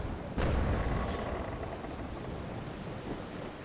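A ship's cannon broadside fired at enemy sails in the Naval Action naval battle game, one sharp boom followed by a long rumbling decay over wind and sea noise, with a fainter second report near the end.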